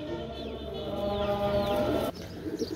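Pigeons kept for sale, including a red-necked pair, cooing close by in a loft, with repeated soft throaty calls overlapping a low background murmur.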